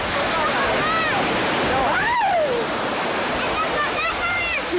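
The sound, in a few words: sea waves at Dwarka coast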